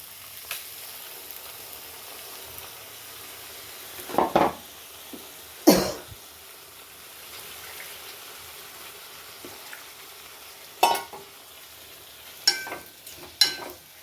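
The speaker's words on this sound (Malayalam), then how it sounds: "നാരങ്ങ ഇട്ട് കഴിഞ്ഞ് ഇതെല്ലാം കൂടെ ഒന്ന് ഇളക്കി മിക്സ് ആക്കണം" A spoon stirs a lemon pickle mixture of chopped, salted lemons in a pan over a low flame. Sparse, quiet scrapes and clinks come every few seconds against a near-silent background.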